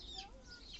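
Backyard chickens kept as a family flock give short, soft clucks, quiet and close, a few brief calls in under a second with no talking.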